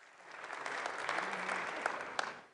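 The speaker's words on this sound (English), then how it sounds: "Another round of applause." Audience applause at a NATO summit event in Turkey, a steady wash of many hands clapping that swells, holds, then tapers at the end, with no talk over it.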